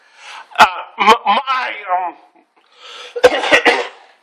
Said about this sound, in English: I need to cough for a second here